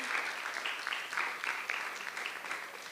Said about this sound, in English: I think we should applaud all the debaters for having the courage to stand in front of us